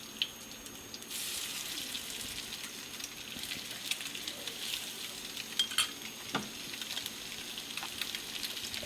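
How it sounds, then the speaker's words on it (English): Fish searing in a hot pan with a generous amount of regular olive oil on high heat, a steady close sizzle and crackle with occasional louder pops and spatters. "you're going to sear this for about 2 minutes on each side"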